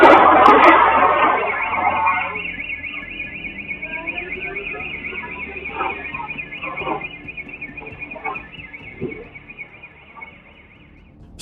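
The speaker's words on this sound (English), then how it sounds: "With the alarm system blaring, they had just a few seconds to grab the things they could." Jewelry store alarm system blaring with a steady high electronic tone throughout, starting loud over a burst of noise and fading slightly, while a person talks underneath.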